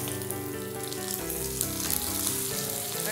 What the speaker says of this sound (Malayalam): നമുക്ക് വേപ്പില ചേർത്ത് താളിക്കാം